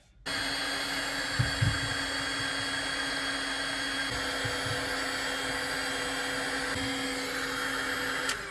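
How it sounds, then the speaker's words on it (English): Heat gun blowing steadily close by with a constant airy roar and fan hum, used while working on boat wiring aboard a trawler, with a few low thumps of handling. "now where's my heat gun?"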